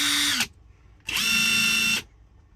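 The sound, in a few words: cordless impact wrench running at speed two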